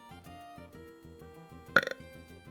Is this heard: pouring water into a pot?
no